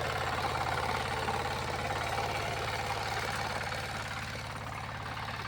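A small power tiller's engine runs steadily close by, a loud, even mechanical chug with a constant low throb and faint knocking that fades slightly toward the end.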